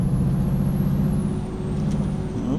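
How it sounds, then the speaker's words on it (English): Truck air brakes hiss in the American Truck Simulator game, a steady loud pneumatic rush over low engine rumble, continuous and close for a few seconds. "Oh, we're stopping, slam on the brakes."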